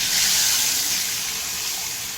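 Tamarind extract mixed with salt and dry ginger powder poured into hot oil in a pan, giving a steady, loud hiss and splashy rush that continues unbroken with no talking.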